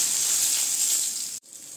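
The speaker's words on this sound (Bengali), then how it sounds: "দিয়ে আমি একটু ভালো করে ভেজে নিব রসুনটাকে।" Garlic cloves seasoned with salt and turmeric frying in oil for a Bengali home dish, giving a steady, bright, close sizzle that cuts out abruptly near the end before resuming more quietly.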